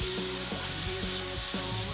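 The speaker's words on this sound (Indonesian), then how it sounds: "Mie dimasukkan ke wajan, ditambah bumbu, sayur, dan telur, lalu diaduk di atas api arang." Javanese boiled noodles with seasoning, vegetables and egg stir-fried in a wok over charcoal: a constant close sizzle broken by rhythmic spatula scrapes about every half second.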